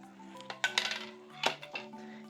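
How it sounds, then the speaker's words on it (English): Jackfruit and chipotle mixture stirred with broth in a pan, a spoon clinking and scraping against the metal in a few bursts over a low steady hum, with no voices. "Give it a nice mix."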